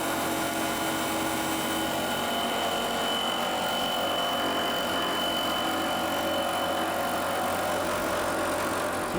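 A milling machine spinning at about 2,200 RPM takes a light final cutting pass, a steady loud whine and hum holding evenly throughout with no pauses.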